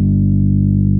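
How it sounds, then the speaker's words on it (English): Electric guitar through a TC Electronic Gravity compressor pedal with a First Act distortion, one sustained, heavily compressed chord ringing steadily and loudly for a second without decay. "Still very much a guitar compressor, but crossed over."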